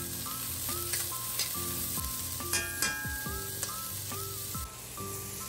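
Garlic and vegetables frying together in a pan for pansit, giving a steady, close sizzle that runs throughout beneath louder background music.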